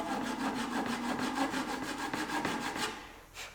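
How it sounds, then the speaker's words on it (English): A small handsaw cuts through the nut fret slot on a guitar neck, making rapid, regular back-and-forth rasping strokes, close and steady, then slowing and stopping near the end. "So I just take a little handsaw."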